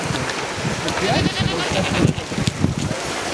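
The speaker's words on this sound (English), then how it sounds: "We have 2 types of goats here." Goats bleat repeatedly nearby at a water treatment plant with wavering, nasal cries, mixed with some voices and outdoor background noise.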